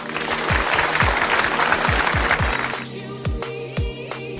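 An audience claps to welcome guest Mr. Ralph Cebu onto a show, dense applause that thins out partway, with low rhythmic thumps of background music running underneath.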